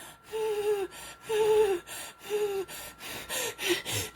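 Rapid, ragged gasping breaths from a person in a panic attack, about seven quick strained inhalations with voiced catches, close and alone.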